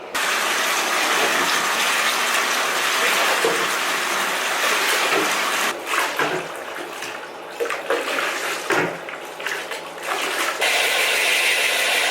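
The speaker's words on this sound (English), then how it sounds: "I'm gonna run more water and give her one more rinse until that water is clear" Water runs in a steady, loud gush as a dog freshly dyed pink gets a final rinse, with brief splashes and shifts in the flow partway through.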